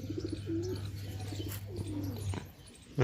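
Pigeons cooing in soft repeated bursts close by on a rooftop, with a steady low hum underneath and a brief sharp knock near the end.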